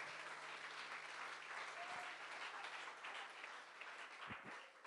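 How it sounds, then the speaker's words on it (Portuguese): A church congregation applauds in a dense, sustained wave of clapping that fills the room for several seconds, with a faint murmur of voices under it. "Então aplauda o nome do Senhor mais uma vez neste momento."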